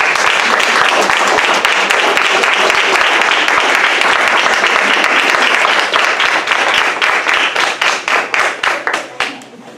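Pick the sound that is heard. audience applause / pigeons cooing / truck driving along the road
audience applause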